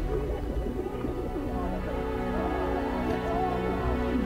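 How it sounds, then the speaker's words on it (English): Pigeon cooing in a Battlefield 1 game scene, soft repeated coos blending with a steady low game ambience and music, with a voice speaking briefly in the background. "Grab the pigeon or don't grab it."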